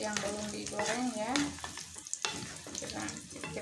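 Snakehead fish eggs frying in a pan of oil, a dense crackling sizzle with bursts of spatter and scraping, close and steady over a few seconds with no talking.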